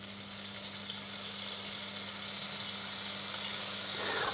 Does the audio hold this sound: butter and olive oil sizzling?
yes